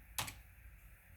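Keys on a computer keyboard are tapped to enter a zip code, giving a quick pair of sharp, close clicks and then near silence.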